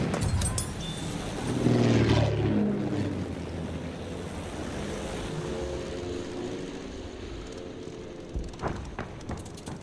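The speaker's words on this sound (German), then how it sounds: "Vorsicht, Flugzeug!" Aircraft engine roaring past overhead in the World War I shooter Battlefield 1, a broad loud swell that builds around two seconds then fades into steady wind and rumble, with a sharp burst near the end.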